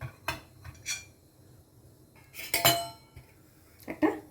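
A lid clinks down onto a cooking pot in a home kitchen where sago pudding is being made, a few sharp metallic knocks and rattles close by, with no talking.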